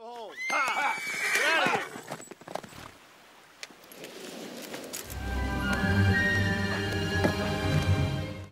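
Horses whinny loudly several times in close succession, then hooves clip-clop amid a dense, rising wash of background sound.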